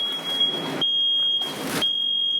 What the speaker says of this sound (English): I think I got to get that alarm.